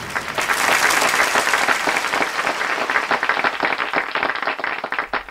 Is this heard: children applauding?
yes